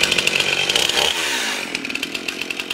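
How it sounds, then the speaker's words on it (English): A warmed-up chainsaw started with a single rope pull, the engine catching and running loud and close, its rough buzzing steady with rapid pulsing throughout. "it usually takes just one pull of the rope, and that starts my saw."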